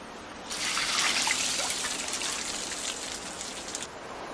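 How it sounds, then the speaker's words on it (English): Water pours and splashes over wooden racks as ice farmers douse them to grow clean ice in the cold, a steady close hiss of falling water and droplets that lasts through most of the stretch before easing off. "ice farmers repeatedly douse specially designed wood racks with water."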